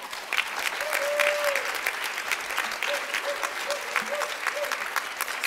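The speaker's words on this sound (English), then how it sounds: "Why don't we applaud the folks that they have been working really hard back there." Sustained audience applause at a heroes luncheon, a steady, fairly loud clatter of many hands, with tonal hums and voices faintly underneath.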